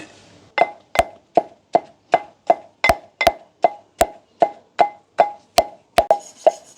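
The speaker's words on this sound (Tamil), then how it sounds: "இப்போ நாங்கள் வந்து தேங்காய் பூவை திரி வச்சுருக்கிறோம் அதை போட்டு இடிச்சுக்கொள்வோம்" Grated coconut pounded in a mortar for a village-style sambal, about seventeen evenly spaced hollow thuds in a steady rhythm, close and clear against a quiet background.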